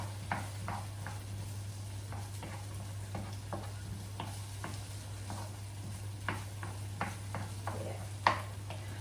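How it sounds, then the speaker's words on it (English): Egg fried rice cooks in a pan with a soft, steady sizzle, punctuated by scattered light clicks and stirring taps, while a low constant hum runs underneath and no one speaks. "I love the sizzling sound as well as it's cooking."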